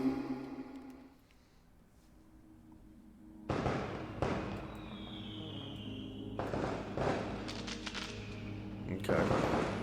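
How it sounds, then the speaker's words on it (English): Fireworks bursting outside, a few sharp booming cracks with crackling tails, heard indoors at moderate distance after a quieter stretch, with a voice speaking at the start. "Got some fireworks going off."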